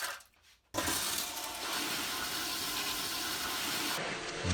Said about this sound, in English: Prison toilet flushes